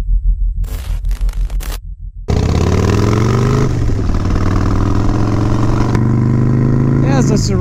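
A motorcycle is ridden along the road. A pulsing low rumble comes first, then a loud, close engine drone with rising tones and wind rush carries on to the end.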